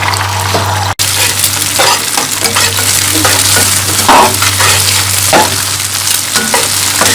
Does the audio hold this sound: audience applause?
no